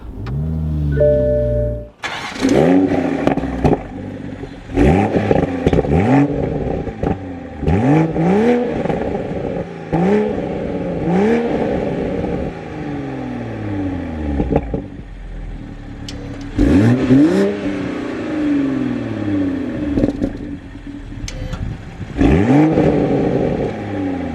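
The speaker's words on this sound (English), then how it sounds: "keeping my foot on the clutch, we can go ahead and fire it up" Toyota GR Supra 3.0 with a manual gearbox, 2023–2025 model, starts with a short crank and catch, then revs repeatedly in sharp rising-and-falling blips between idle, loud and close throughout, with no talk.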